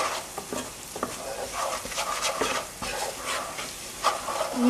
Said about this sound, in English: And 1 teaspoon of fennel seeds. Stir that together.